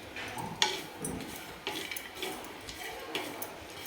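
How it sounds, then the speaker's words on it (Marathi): Roasted peeled peanuts and roasted sesame seeds stir-fried in oil in a pan, with soft scraping strokes of a spatula and light clinks repeating every second or so over a faint sizzle. "हे जे भाजून साल काढून घेतलेले शेंगदाणे आहेत ते पण टाकून आपल्याला तेलामध्ये छान परतून घ्यायचं आहे"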